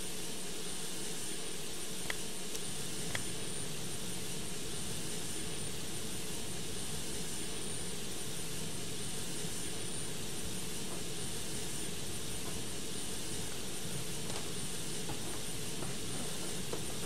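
A Boeing 727-100 in a flight simulator game sits during pushback, its jet engines giving a steady, faint whine and rumble, with a few soft clicks scattered through and no talking.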